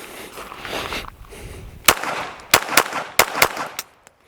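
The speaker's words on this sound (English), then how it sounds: "First shots with the 15-pound recoil spring and the Overwatch Precision trigger." A Glock 17 Gen 6 pistol with a 15-pound recoil spring and an Overwatch Precision trigger fires at a steel target on a shooting range, about six sharp loud shots in a quick irregular string.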